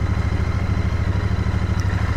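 A Royal Enfield motorcycle idles in neutral with a steady, close, low thumping beat that holds an even rhythm throughout, with no talking over it.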